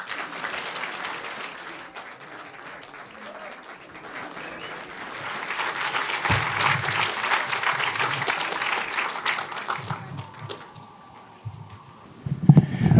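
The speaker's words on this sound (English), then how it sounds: "ladies and gentlemen, will you please welcome the Howard Gospel Choir" Audience applause greets the Howard Gospel Choir at an investiture ceremony in Decatur House, a sustained clapping crowd that swells in the middle and then thins out toward the end.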